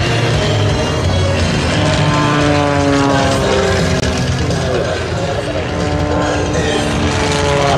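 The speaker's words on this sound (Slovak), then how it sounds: "kde prelietáva skupina Flying Bulls" Propeller aircraft of the Flying Bulls aerobatic team pass overhead at an airshow in Piešťany, a loud, steady droning roar with shifting engine tones that holds throughout.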